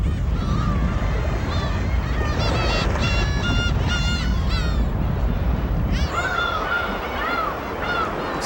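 Black-tailed gulls call repeatedly in loud, overlapping mewing and honking cries over the rocky shore of Hongdo, a protected island in clean open sea, with steady surf and wind beneath.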